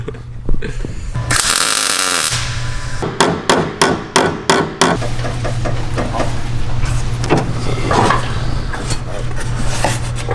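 A metal transmission tunnel panel for a Honda Civic is hammered in a close, loud series of about eight sharp blows after a short grinding burst. Scattered knocks follow over a steady background hum.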